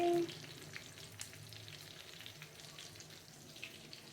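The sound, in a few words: fish frying in a pan with masala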